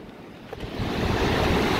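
Sea waves roll and break on Goliakhali sea beach in Bangladesh, a rising wash of surf mixed with wind buffeting the microphone.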